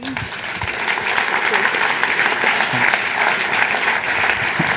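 Conference audience at a real estate event applauding for two speakers, a dense and steady round of clapping that fills the room without a break.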